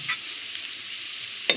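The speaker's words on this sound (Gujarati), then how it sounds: "આવી રીતે કંઈક હલાવવું પડે પેલા." A spoon stirring onion and tomato with salt and turmeric in a pan, giving a brief soft scraping sizzle that ends in one sharp metallic clink.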